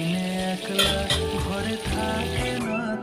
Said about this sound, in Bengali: আমি এখন বেগুনের চপ ভাজি করছি